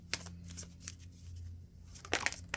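Tarot cards are shuffled by hand in a few brisk riffling bursts with short pauses between, close and fairly soft over a low steady hum, with no voices.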